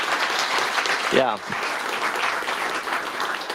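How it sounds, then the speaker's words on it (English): Online meetup audience applauding at the close of a talk, steady broadband clatter throughout, with a brief spoken interjection partway through. "One more round of applause"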